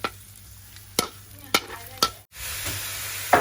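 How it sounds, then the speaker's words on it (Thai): Garlic fries in a little oil in a pan, sizzling steadily, broken by a few sharp clinks of a utensil against the metal and a brief pause near the end. "ตั้งกระทะ เอากระเทียมลงไปนะครับ น้ำมันเล็กน้อย"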